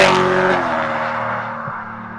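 BMW E92 M3 making 625 hp with an IPE F1 exhaust, a loud close engine note that fades steadily as it trails off over two seconds.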